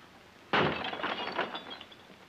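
A hammer smashes a glass window pane with one sudden loud crack, and shards tinkle and clatter down for about a second and a half afterward.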